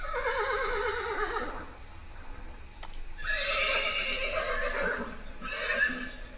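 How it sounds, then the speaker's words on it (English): A horse whinnies loudly and close by, a long wavering neigh followed by two shorter whinnies, with no talking; a sound effect from the Syrinscape tabletop RPG app. "We have a horse."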